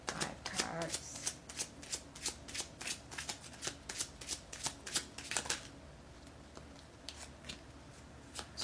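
Kipper cards being shuffled, a rapid run of crisp close riffling snaps, then quieter scattered flicks and slides as cards are drawn, with a voice speaking softly over it.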